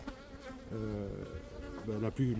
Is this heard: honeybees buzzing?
yes